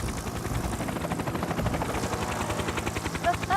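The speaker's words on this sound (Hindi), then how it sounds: "टॉम थॉमस अपने हेलीकॉप्टर के साथ" Cartoon helicopter arriving: rapid rhythmic rotor chop, loud and close, pulsing evenly throughout with a short whistling tone near the end.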